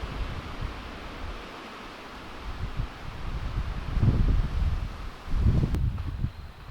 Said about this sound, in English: Literally after I sent that, it got like super windy.